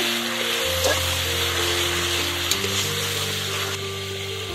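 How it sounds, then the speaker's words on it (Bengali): Meat masala powder and a pinch of garam masala stirred in a hot pan, a steady close sizzle of frying spices with occasional scraping strokes, loud and continuous without any talk. "আর দেবো মিট মশলা গুঁড়ো। ভালো করে নাড়াচাড়া করে নেব।"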